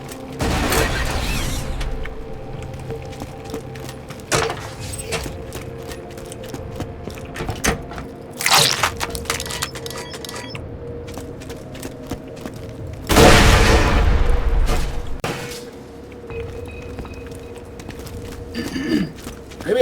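Grenade blast and gunfire in the shooter game Borderlands 2: several heavy booms, the biggest near the middle, with scattered sharp shots and clanks between them, fairly close.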